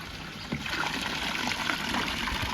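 Rinse water from a first rinse drains out of coco peat growing media, making a steady, close trickling and dribbling wash that runs unbroken for the whole stretch.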